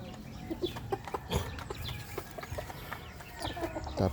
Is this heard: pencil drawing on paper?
no